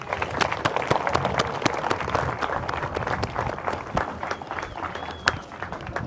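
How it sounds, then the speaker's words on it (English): Garden party guests at Bylaugh Hall clap outdoors, a dense round of sharp, close handclaps that holds steady and tapers slightly near the end. "Can you all please give them a round of applause?"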